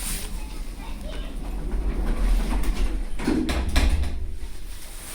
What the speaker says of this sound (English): It's an epic old Evans roped hydraulic with amazing motor sound.